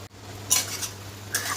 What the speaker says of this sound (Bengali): ডিমগুলো দিয়েও আমি ভালোভাবে একটু মশলার সাথে কষিয়ে নেব যাতে ডিমের মধ্যে মশলাটা ভালোভাবে ঢুকে যায়